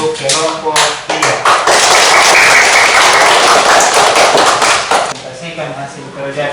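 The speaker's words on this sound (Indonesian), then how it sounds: "Kasih tepuk tangan dulu untuk kelompok 3." Classroom applause for a student group after a presentation, a dense burst of many hands clapping that swells and holds for several seconds before tapering, with speech around its edges.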